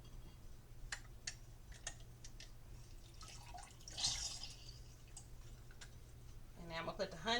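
Lemon juice is squeezed from cut lemons and drips in quick, sharp drops, near and faint over a low hum, ending in a louder squeezing burst.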